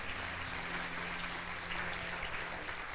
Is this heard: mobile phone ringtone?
no